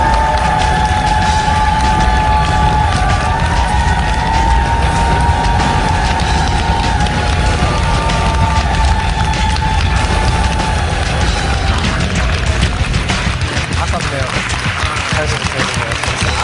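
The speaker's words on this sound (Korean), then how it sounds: "큰 박수 부탁드리겠습니다" A studio audience on the Korean game show The Chair applauds and cheers in a dense, steady roar that lasts the whole stretch, with a sustained musical tone running through it.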